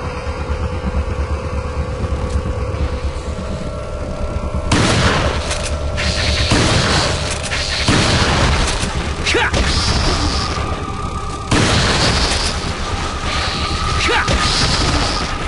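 Gunfire and explosions in the video game Resident Evil 4, several heavy booming blasts and crashes over a constant loud rumble, close and forceful.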